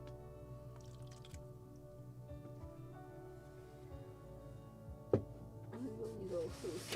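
A small brush is swished in a glass of water to wash a model gun part for a Model Shipways 1776 gunboat Philadelphia kit, giving faint, quiet sloshing and drips with one sharp little splash near the end.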